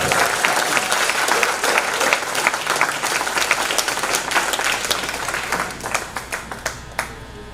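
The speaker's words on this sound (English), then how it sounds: "Let's give him a big round of applause." Loud crowd applause for Marcus Garvey at the 20th Marcus Garvey Roots Extravaganza, dense and sustained at first, then thinning toward the end into a few separate claps.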